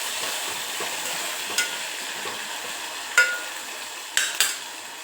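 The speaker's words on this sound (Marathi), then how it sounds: "आणि कमी गॅसवर तिला परतू द्यायची व्यवस्थित" Katurle (spiny gourd) bhaji stir-frying in a pan on a low flame, a steady soft sizzle with occasional spatula clinks and scrapes against the pan, close and alone without talk.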